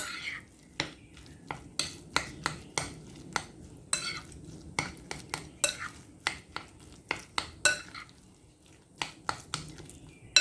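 Shumai filling mixed by hand in a bowl, giving a steady run of close, sharp wet slaps and clicks in an uneven rhythm over a soft kitchen background, with no talking.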